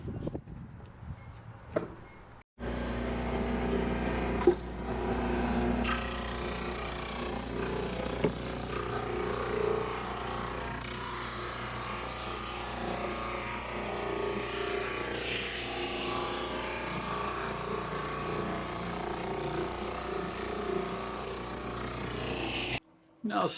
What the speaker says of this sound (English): I'm going to go ahead and run them through the drum sander